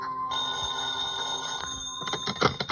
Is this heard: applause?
no